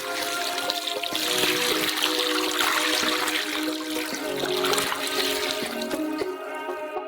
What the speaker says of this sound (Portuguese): E 8 litros de água.